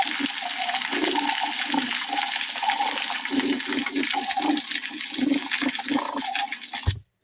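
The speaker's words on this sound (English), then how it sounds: "if a healthy soundscape of a coral reef will sound like this" Healthy coral reef soundscape underwater: a dense, constant crackle of snapping shrimp fills the background while lower chortling and grunting animal calls pop in and out, cutting off abruptly at the end.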